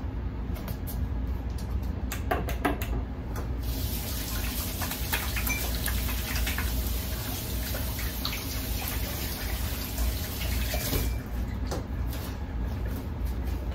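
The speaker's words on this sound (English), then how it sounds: "so let me wash my hands" Hands being washed under a running faucet, a steady close rush of water with occasional splashing and clinks, continuous throughout.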